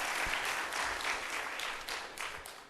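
A church congregation claps for the worship team, a soft, steady patter of many hands that stays even and fairly distant for a few seconds with no talk over it.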